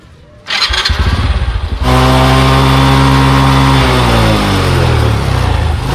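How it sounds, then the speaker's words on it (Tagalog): A motorcycle engine starts with a brief crank, then settles into a loud, steady idle close by, with rising revs as the bike is tested after chain lubrication. "Ngayon, i-testing mo ngayon yung motor mo."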